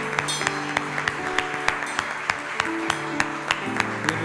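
A church congregation claps for the Lord in a steady, rhythmic beat, sharp regular claps sounding over sustained organ or keyboard chords and a soft background of voices.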